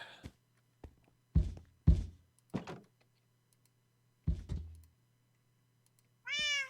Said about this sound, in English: Also, I think I want this cat to get out of here.